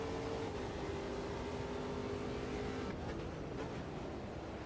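Continuous engine drone of a race car in the racing game Automobilista 2, a steady humming whine that holds pitch then drops slightly near the end, moderately quiet.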